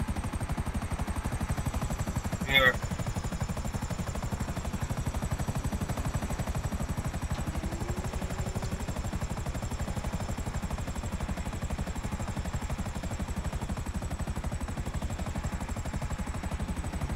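Helicopter in Grand Theft Auto V: a steady rotor chop and engine drone throughout, with a brief metallic clank early on and no talking.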